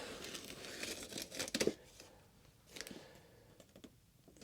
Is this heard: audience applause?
no